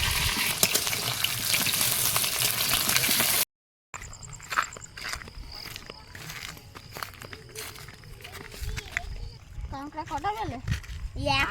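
A curry is set on a stove to cook in a pan. It gives off a frying sizzle with stirring and clinks of the pan, broken by a brief gap, while voices talk in the background.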